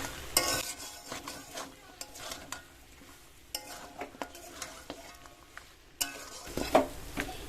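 Mutton with cumin powder is sautéed on a low flame and stirred in a pan, producing intermittent scraping and clattering strokes over a soft sizzle, spaced irregularly, with no talk.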